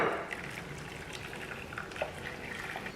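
Hot vegetable stock and water poured into a pan, a soft, brief liquid splash and trickle heard close but quiet, with no voices.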